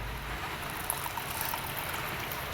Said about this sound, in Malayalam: പുളിവെള്ളം ഇതിലേക്ക് ഒഴിക്കാം.